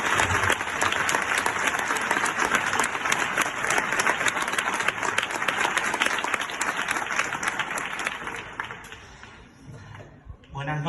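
Loud, sustained audience applause at an evening book presentation welcomes a guest speaker, dense clapping that holds steady before fading out near the end, with faint talk underneath.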